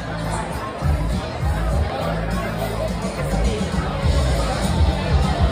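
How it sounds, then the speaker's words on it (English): A concert crowd gathers at a show at The Shed in Maryville, Tennessee, a steady murmur of chatter and babble with nearby voices talking over it. "Crowd over behind us, crowd"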